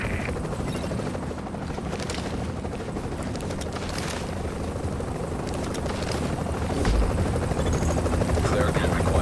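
An extraction helicopter lands in the video game The Division, its rotor thumping loud and continuous and swelling nearer toward the end, with a voice speaking over it.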